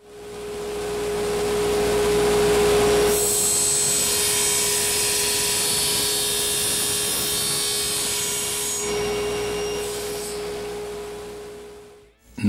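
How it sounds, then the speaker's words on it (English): A drill press bores into an ebony pen blank, a steady motor hum with a constant tone jumping into a loud, bright whine of cutting from about three to nine seconds, then easing back to the idle hum before stopping. "when the drill bit is pushing in from the drill press and turning"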